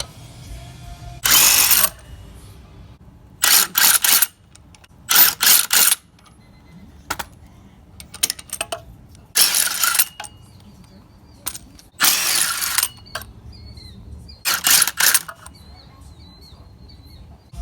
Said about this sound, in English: we're going to remove the wheels and then jack up the vehicle, and then we're going to start taking off the shock mounts.